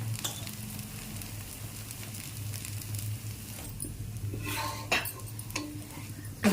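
An egg dosa fries in oil on a hot pan with a soft continuous sizzle, then a few brief scraping and clattering touches near the end, close and moderate in level.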